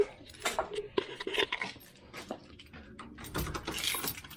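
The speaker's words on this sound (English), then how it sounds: "Let's go and get the keys." Keys jangle and clink as they are picked up in a garage while working on a Series 3 Land Rover 88. Several bright, close metallic rattles come in bursts with short pauses between them, and nobody talks.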